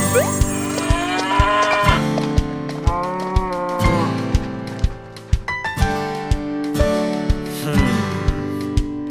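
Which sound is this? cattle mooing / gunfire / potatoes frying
cattle mooing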